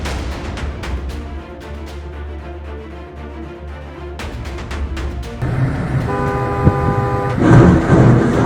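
A car horn blares in long, steady honks over road traffic noise, loud and close, with a second, more strained horn tone taking over partway through.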